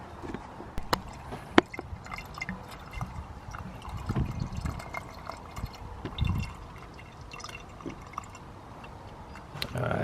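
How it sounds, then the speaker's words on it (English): Coolant pours into a hose on a VW 2.0T TSI engine, a close, soft trickle and splash with scattered drips and a few sharp clicks. "Now I'm just gonna pour whatever's in here"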